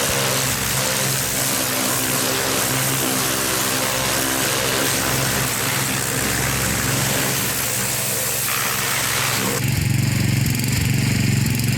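A Subaru EX21 7.0hp engine runs on a pressure washer at lowered RPM, a steady close mechanical drone that gets louder and rougher near the end.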